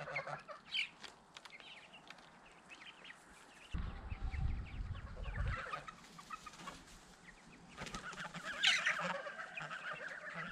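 Geese honk repeatedly at close range amid clucking fowl, with a low rumbling noise in the middle and a busy outdoor farmyard backdrop.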